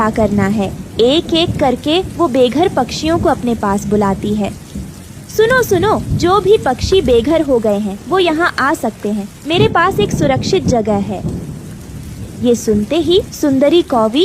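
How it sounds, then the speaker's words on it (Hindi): Heavy cartoon rain pours steadily through a jungle scene with rumbles of thunder, running continuously beneath a voice narrating and calling out over it. "जंगल में अभी भी भारी बारिश हो रही थी।"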